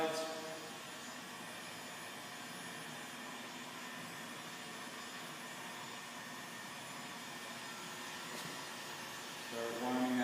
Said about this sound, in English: I'm going to go ahead and start blowing from the underside of the film.